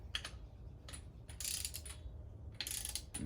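A cheap torque wrench ratchets on an engine while the pistons are prepped, giving close, quiet bursts of rapid clicking separated by short pauses.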